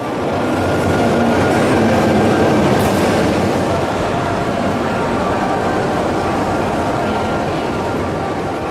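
A Pyongyang metro subway train in North Korea rumbles along with a loud, steady roar, faint wheel clatter and a squeal, heard from inside a carriage.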